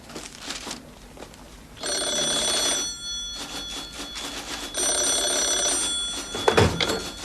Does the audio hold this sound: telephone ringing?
yes